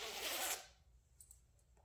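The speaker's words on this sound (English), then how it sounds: "And it zips." A zipper on a soft fleece-lined hooded jacket with a tie hood gives one quick, close rasp, then a few faint rustles.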